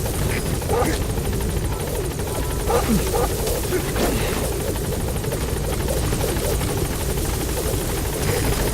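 Support helicopter from Metal Gear Solid V, a loud steady rotor drone and engine whine filling the whole stretch, with radio-style voice chatter heard over it.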